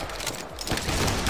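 A musket volley goes off in the video game Battle Grounds III during a linebattle, a short dense crackle of overlapping shots, moderately loud and close.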